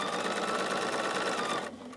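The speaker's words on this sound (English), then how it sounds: "I'm gonna go ahead and keep stitching these 4-patch units." A sewing machine chain-stitches fabric 4-patch quilt units in a fast, steady, close mechanical whir that stops abruptly just before the end, with no talking.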